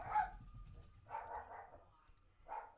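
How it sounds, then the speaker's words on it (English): Dogs bark angrily in three spaced bursts, moderately distant and fairly faint against a quiet background. "Angry puppies."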